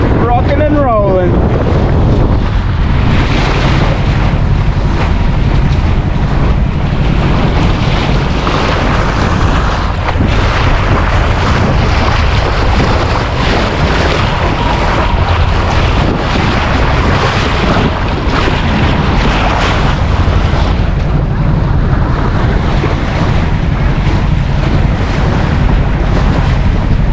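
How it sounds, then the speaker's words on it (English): A sailboat motors along with its mainsail down and jib set, rocking and rolling through waves. Loud, steady wind buffets the microphone over the constant wash of water and the engine throughout. "Bit of wave action now, rocky and rolly."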